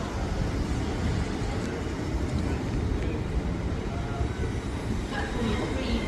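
A train rumbles at Doncaster station with a steady loud roar of wheels on rails and a faint brief squeal near the end, with indistinct voices underneath.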